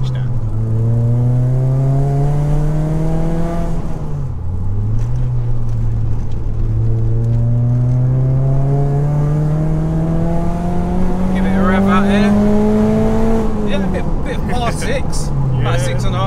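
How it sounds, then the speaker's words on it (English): Ford Racing Puma engine revving while driving, a steady loud drone that climbs in pitch through two long pulls, dips between them and drops off after each, close up and continuous under road noise. "is that the most revs it's seen in a while, Charlie?"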